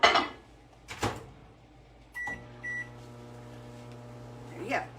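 A microwave oven hums steadily, cooking cake batter, after a couple of button beeps and a door thud, with clattering kitchen sounds at the start.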